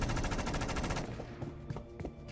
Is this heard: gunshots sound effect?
yes